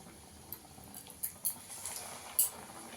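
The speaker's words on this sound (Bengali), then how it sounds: "তেলটা গরম হয়ে গেছে, এবার চপটা দিয়ে দেবো" Potato chop sizzling in hot oil over a low gas flame, a soft steady fry with a few sharp pops and crackles scattered over three seconds.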